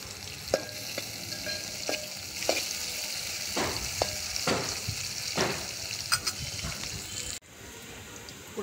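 Chopped green chili pieces fry in hot oil in a pan, giving a steady close sizzle. A spoon stirs and scrapes the pan in scattered clicks, and a sharp louder hiss near the end fades out.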